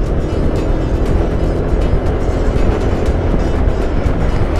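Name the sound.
bus passing on the road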